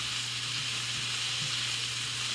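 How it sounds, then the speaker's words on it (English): Mushrooms and onions sauté in a pan for a steak and snow pea stir fry, giving a steady, close, even sizzle with a low hum underneath and no voices. "I'm going to let them saute in here with the mushrooms and the onions."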